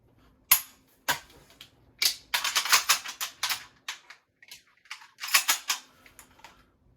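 A 940 JM Pro shotgun handled during strong-hand quad reloads: sharp isolated clicks and snaps, then quick bursts of rattling metallic clacks of shells and action, close and crisp with quiet gaps between.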